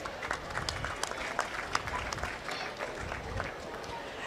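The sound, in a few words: applause for the exhibitors at a beef show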